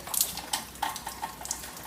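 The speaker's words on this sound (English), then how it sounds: "As you can see, the water is coming through" Rainwater dripping and splashing into a kitchen through a roof torn open by a tornado, a quiet run of irregular watery drops and small splashes with no voices.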